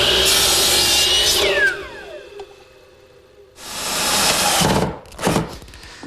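A power tool shapes small wooden clips for a walnut table, giving a loud whining cut that spins down with a falling pitch. It pauses, then a second loud pass follows with short bursts near the end.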